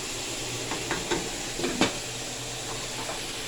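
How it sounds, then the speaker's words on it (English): Cabbage leaves stirred in a hot buttered pot give faint scrapes and soft clinks over a steady low sizzle and hiss, with no talking. "I'm gonna stir that up and get that heat evenly through this pot so it can distribute evenly through my cabbage leaves."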